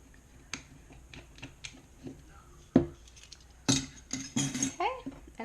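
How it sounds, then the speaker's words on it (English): Utensil clinks and taps against a bowl while banana pancake batter with beaten egg is mixed, a scattered series of sharp close knocks and scrapes, a few louder clatters near the end. "I'm going to go ahead and mix those together."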